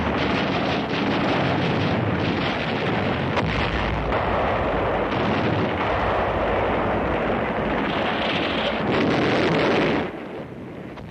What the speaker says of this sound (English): They begin heavy fire against the beachhead.